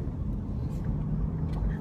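Steady low rumble of road and engine noise from inside a moving car, fairly quiet and constant, with faint small knocks.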